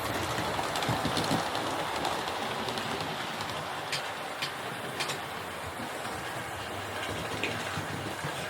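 Model Class 4MT steam locomotive, a Hornby or Bachmann 75000, running along track, producing a steady close hiss and rolling rumble with faint repeated clicks of wheels over rail joints.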